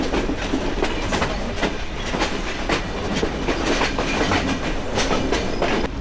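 The Padma Express train runs at night from Dhaka to Rajshahi with a steady, loud rattle and rhythmic clickety-clack of wheels from inside or beside the carriage, continuous throughout with no talk.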